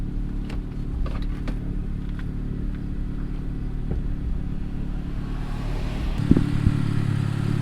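A turbocharged Honda Accord being street tuned rumbles with a steady low engine drone that holds even and dense from inside or near the car, with a few brief clanks near the end.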